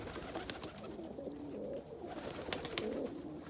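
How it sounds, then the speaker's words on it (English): A black Homer pigeon cockbird coos in soft, low, repeated throaty calls close by, over faint rustling and a few sharp clicks. "The Homer cockbird."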